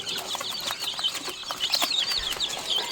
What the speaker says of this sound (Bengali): দেশি মুরগির বাচ্চা এগুলো।